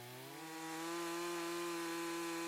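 A Stihl MS362 59cc chainsaw mills through Douglas timber, its steady engine drone rising in pitch and loudness as the cut settles into a continuous, close whine.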